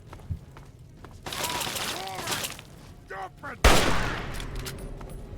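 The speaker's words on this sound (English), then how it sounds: "That's a machine gun." Bursts of rapid machine-gun fire from a video game come and go, loud and close, with people talking and laughing over them and a sharp blast near the end.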